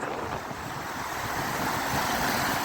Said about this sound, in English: the waves are coming right up into the river